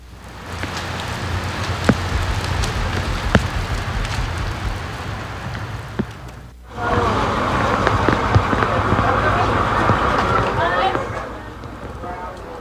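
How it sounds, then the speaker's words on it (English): Heavy rain pours down on Belmopan, Belize, a dense, loud, continuous roar of drops that dips briefly midway, then surges back and eases near the end. "As rains began to pummel Belmopan"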